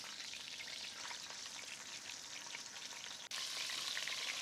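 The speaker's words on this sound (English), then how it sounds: "Let the pigeons sizzle and sear them all over." Wood pigeons searing in a hot pot for an Indian-style curry, a steady dense sizzle and crackle of frying close up, continuous throughout with a brief dip near the end.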